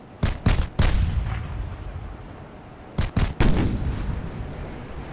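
Naval gunfire from warships striking a transport ship in the naval combat game Ultimate Admiral Dreadnoughts: two loud clusters of sharp booming shots, three quick blasts then a pause, then three more, each trailing into rumbling decay.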